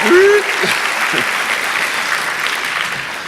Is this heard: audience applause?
yes